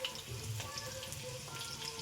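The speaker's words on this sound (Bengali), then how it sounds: "এদিকে মাংসতে দেওয়ার জন্য আলু ভেজে নিচ্ছি।" Potatoes frying in oil, to be added to a meat curry, give a soft, steady sizzle close by that lasts a couple of seconds, with no talking.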